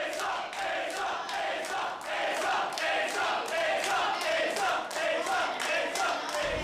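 Excited crowd at a live NHRL combat robot fight cheering and yelling continuously, a dense loud roar of many voices with rising shouts.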